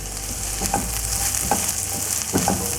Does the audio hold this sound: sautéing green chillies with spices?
yes